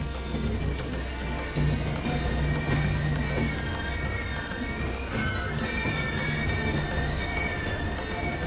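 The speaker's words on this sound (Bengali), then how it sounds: "আর 3 নম্বর প্ল্যাটফর্মে আরেকটা ট্রেন আসছে," A Donyi Polo Express pulls into platform 3 at Kamakhya railway station at night, heard from a nearby platform as a steady rumble of rolling wheels with a thin metallic squeal and scattered clanks.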